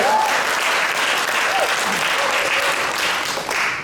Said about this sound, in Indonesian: Sekali lagi kau boleh berikan tepuk tangan yang terbaik buat Tuhan.